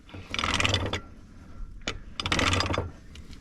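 A big hand crank turns over the engine of an old, abandoned P&H 206 tractor, giving two long bursts of metallic ratcheting and grinding separated by a short pause and a single clank.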